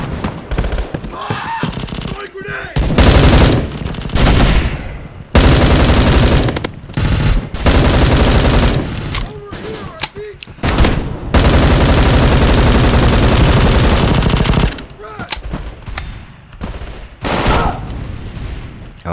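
Rapid bursts of automatic gunfire from the online shooter video game Bullet Force, loud and dense, with repeated volleys and brief pauses across the clip.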